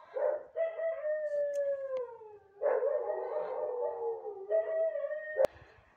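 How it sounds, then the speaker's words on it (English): Dogs howl in long, sliding, wavering tones, three drawn-out howls in a row with short gaps, fairly close and clear with little else around them. "There was quite some noise from the dogs."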